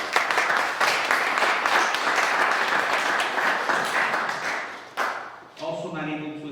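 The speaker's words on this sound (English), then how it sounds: "So an applause for Tender Loving Care." Sustained audience applause at an outdoor gardening awards ceremony, dense steady clapping filling most of the span before a brief dip and a short trailing burst near the end.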